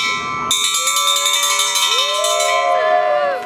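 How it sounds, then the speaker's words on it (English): A bell rung hard at Burning Man 2022, its bright metallic clang bursting in and ringing on with sustained, wavering overtones, loud and close over faint background noise. "Ring the bell."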